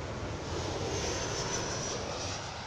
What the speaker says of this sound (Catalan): segons el soroll ja saps si és un avió dels grans o dels petits